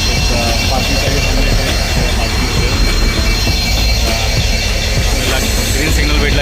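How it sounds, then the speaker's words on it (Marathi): Konkan Kanya Express running, heard from inside a crowded general coach: a loud, continuous rumble of wheels and carriage noise with rattling, and voices talking throughout. "आपली ट्रेन आता वीरवरून निघालेली आहे."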